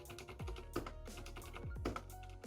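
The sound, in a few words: Varmilo silent red switch keyboard typing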